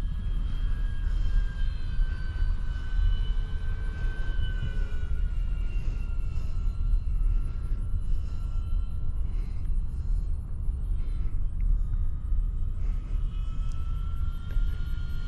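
An E-Flite Corsair radio-controlled model airplane flies overhead with a steady electric whine and wavering motor tones over strong wind rumble, no voices.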